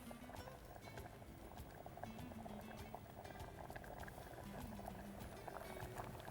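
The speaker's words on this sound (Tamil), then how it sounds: "கடுகு, கருவேப்பிலை தாளிக்கிறோம்." Mustard seeds and curry leaves sizzle and crackle in hot oil, a steady dense hiss sprinkled with tiny pops, fairly faint and continuous throughout.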